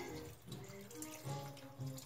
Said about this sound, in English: So I'm going to add the good water here, and I'm going to start with half a cup